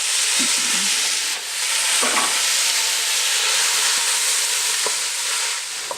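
Thickly sliced garlic cloves and carrots with onions sizzling in a pot for braised beef, a steady close frying hiss broken by a few soft stirring knocks and scrapes.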